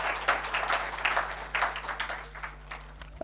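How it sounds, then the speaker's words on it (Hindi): Warm, dense applause from an audience at a children's day ceremony swells in uneven waves, then thins toward the end, with a low steady hum running underneath. "जोरदार तालियों के साथ"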